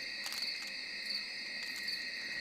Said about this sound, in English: Yeah, crickets. How about crickets?